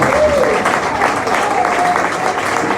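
A church congregation claps and cheers together in steady, continuous applause, fairly loud and close, with voices mixed into the crowd sound.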